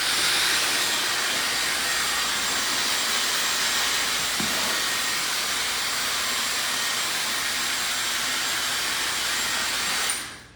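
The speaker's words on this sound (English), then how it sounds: "what we're going to use is this hair dryer on cold air" A hair dryer blowing cold air with a steady, loud whooshing hiss that continues unbroken before cutting off at the end.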